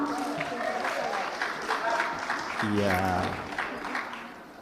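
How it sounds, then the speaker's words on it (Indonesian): Audience applause at a Quran knowledge quiz semifinal, steady clapping from the crowd with voices talking over it, one brief spoken word included. "Kita berikan tepuk tangan bersama."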